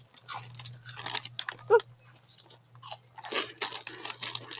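A sweet, crunchy snack is bitten and chewed close to the mic, with irregular sharp crunches in a few clusters and quiet pauses between them.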